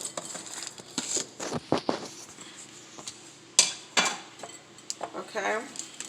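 A spoon clinks and scrapes in a bowl as spring roll filling with noodles is stirred, with irregular close clatter and knocks and brief pauses between strokes.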